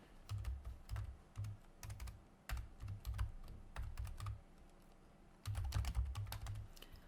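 Rapid keystrokes on a computer keyboard while text is typed for a PowerPoint slide, coming in close, steady bursts with a short pause before typing resumes; no one speaks.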